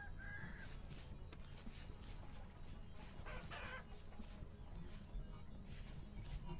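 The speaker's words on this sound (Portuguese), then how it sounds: "Tem um galo aí." A rooster in the Vintage Story survival game clucks and crows faintly at a distance over a constant low ambient bed of outdoor game sound, with no talking.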